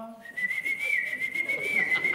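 A person whistles an imitation of a nightingale's evening song, a single clear sustained tone with slight wavering trills, close and fairly soft over a quiet background.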